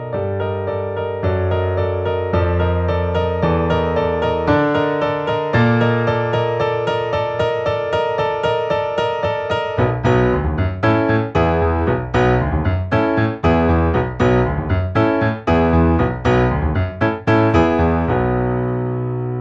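Solo piano plays the intro and verse of a song, starting with sustained chords, then moving into a busier rhythmic passage of punchy, repeated chord stabs, loud and close with no voices.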